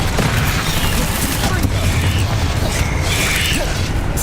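A Bombarda spell explosion in the Hogwarts Legacy video game sounds as a loud, continuous rumbling roar with crackling mechanical clatter layered throughout, dense and close from start to finish.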